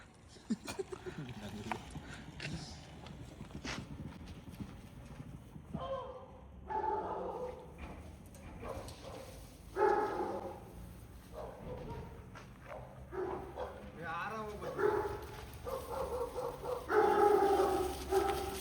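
Dogs barking in a residential neighbourhood, heard intermittently at a moderate distance beneath steady conversation.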